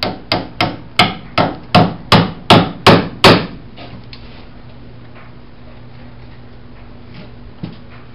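Hammer blows driving nails into supports for ceiling joists, nine loud, close, evenly paced strikes that end abruptly, followed by a quiet room hum and one faint knock.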